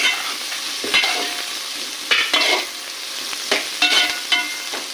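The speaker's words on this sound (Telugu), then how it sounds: "ఈ ఉల్లిగడ్డలు కొద్దిగా వేగాలి." Onions sizzle and fry in a pan for paneer butter masala, a steady hiss broken by several clattering stirs of a spoon, heard close and with no talk.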